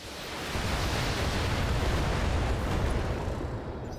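Mech weapons fire in the turn-based game BattleTech, aimed at a Panther mech: a loud, sustained roaring barrage of blasts that swells and holds for several seconds before easing.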